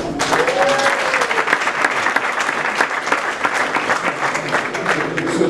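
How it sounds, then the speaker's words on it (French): Sustained applause from a large audience at an artist awards ceremony, dense clapping that holds steady throughout without voices standing out. "Dans ces applaudissements, j'aurais souhaité qu'ils soient adressés à l'organisation"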